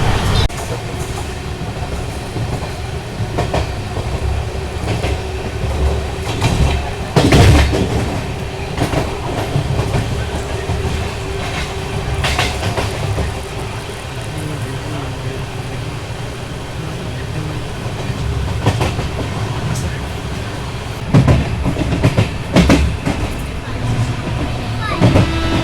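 A passenger train on the Bangalore to Goa route runs along the rails with a steady rumble and recurring clickety-clack wheel beats. A few sharper knocks stand out, and a voice talks over the noise from inside the coach.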